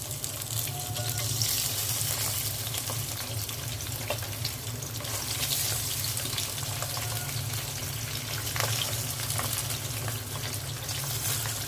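Pabda fish frying in hot oil in a pot, a continuous moderate sizzle and bubbling with scattered pops, steady and close over several seconds, without speech.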